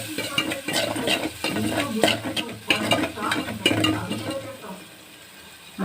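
Tomato curry with ridge gourd frying in oil with turmeric, steady sizzling with scraping stir strokes of a spoon against the pan, loud and close, easing to a quieter hiss near the end.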